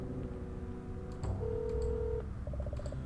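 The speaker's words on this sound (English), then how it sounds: "Call her mother and the phone rings twice before she picks up." Dialing tones sound on a phone in the Goosebumps 2015 video game: a sustained tone followed by a quick run of short touch-tone beeps over a low background game hum, with no voices.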